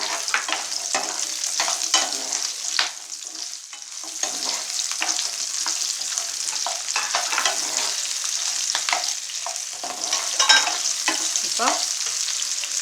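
Dried red chillies and onion fry in hot oil for a tomato chutney, giving a constant crackling sizzle broken by repeated scraping stirs of a spoon in the pan. Nearby and fairly loud, with no talking.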